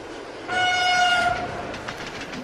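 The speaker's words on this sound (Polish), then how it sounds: "Zobaczcie, jakie pociągi jeździły 20 lat temu." A train horn blares for about a second, then the rumble and clatter of a passing train continues.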